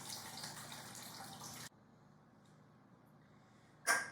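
Crisp light beer poured out, a soft fizzing, splashing stream for about a second and a half that stops abruptly, followed by quiet and a brief sharp sound at the end.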